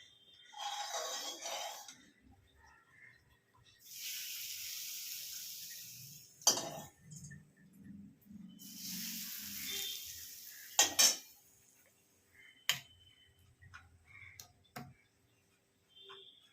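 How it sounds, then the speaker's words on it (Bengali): A spoon mixing hot oil into red chilli pickle, with bursts of soft scraping and stirring broken by sharp clinks of metal against the container, close and without talk. "তেলটা গরম তেলটা হাত দিয়ে মেলানো যাবে না, চামচ দিয়েই মেলাতে হবে"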